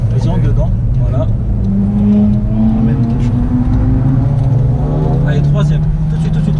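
A Honda Civic engine drones loudly on the Nürburgring, its pitch rising and dropping through gear changes under a continuous in-car roar, with a voice talking over it.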